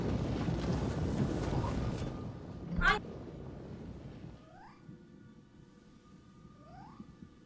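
A cat meows a few times in the video game Nioh 3, short rising calls heard faintly after a windy, rumbling stretch and a brief loud thump.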